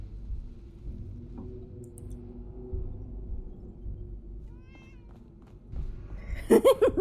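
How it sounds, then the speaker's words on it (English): A cat meows in the video game Fallout 4, a brief mewing call near the end of the clip that rises over a low, quiet ambient rumble; no talking is heard. "The kitty cat, I thought it was my cat for a second."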